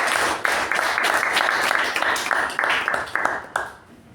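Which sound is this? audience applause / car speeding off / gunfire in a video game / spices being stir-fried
audience applause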